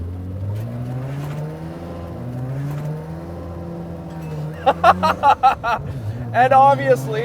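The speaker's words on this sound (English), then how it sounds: "rotary engine, rotary powered. This one has been converted to a single turbo" A single-turbo rotary engine in a Mazda RX-7 idles with a lumpy, low, pulsing drone, close by, while people talk over it near the end.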